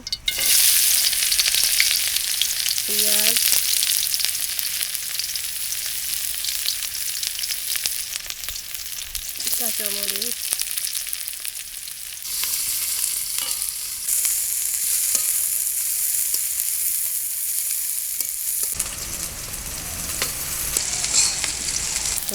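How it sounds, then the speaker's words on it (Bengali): Oil fries in a cooking pan for a duck curry, a loud, steady hiss and sizzle that runs throughout, with a couple of short clanks near the start. "রান্না করার জন্য এখন তেল দিয়ে দেওয়া হচ্ছে"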